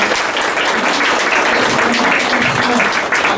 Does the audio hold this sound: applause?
yes